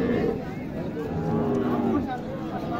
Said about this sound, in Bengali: এই যে একটা গরু আছে এখানে